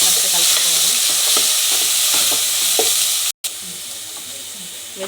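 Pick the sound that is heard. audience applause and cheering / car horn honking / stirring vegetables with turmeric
stirring vegetables with turmeric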